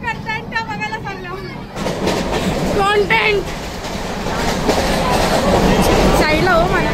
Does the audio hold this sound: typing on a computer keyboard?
no